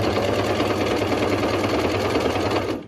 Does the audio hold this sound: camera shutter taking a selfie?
no